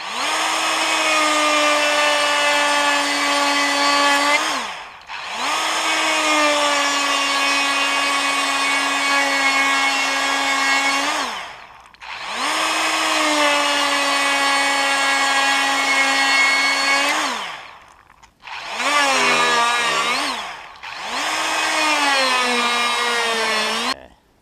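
A Dewalt XR 18V cordless brushless die grinder running at 25,000 RPM cuts into well-seasoned red oak, a loud high-pitched whine in long sustained bursts with brief drops between them and a shorter, wavering pass near the end.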